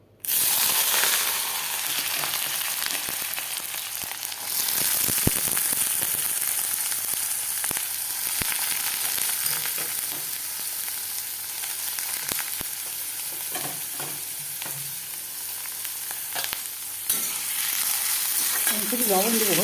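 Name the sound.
ingredients frying in white cooking oil in a pan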